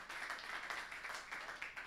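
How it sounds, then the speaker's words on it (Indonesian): Church congregation clapping and cheering for Jesus, a faint, dense wash of applause rippling steadily and sounding distant. "Berikan sorak-sorai buat Tuhan Yesus"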